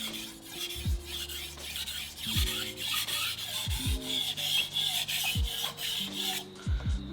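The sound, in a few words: stainless steel knife sharpened on a whetstone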